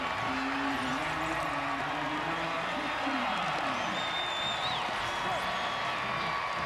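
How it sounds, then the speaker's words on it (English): Alabama fans in the stands at the Senior Bowl football game in Mobile give steady, distant applause and cheering, a continuous wash of crowd noise beneath a commentator's voice. "some nice applause from the Alabama fans here in Mobile"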